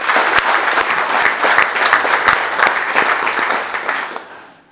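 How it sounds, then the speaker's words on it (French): Applause for President Alassane Ouattara at a Council of Ministers tribute in Côte d'Ivoire: dense, continuous clapping from a sizeable audience that fades out at the end. "nous pouvons recommencer à vous applaudir"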